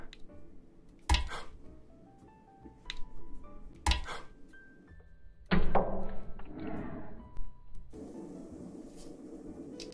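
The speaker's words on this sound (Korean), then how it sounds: "큐어젤리처럼 이런 꼬챙이로 찔러서 터쳐서 먹는 또 재미있는 푸딩입니다" Jelly pudding capsules pierced with a skewer and burst, a few sharp pops and wet squishes spaced apart, close and crisp against near silence, with faint clinks between.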